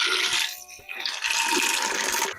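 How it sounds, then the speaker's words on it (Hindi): Water pours steadily into a vessel holding half a kilo each of ker and sangri set to soak for a traditional Marwari sabzi, a continuous splashing stream with a brief dip midway. "तो डालेंगे इसमें पानी"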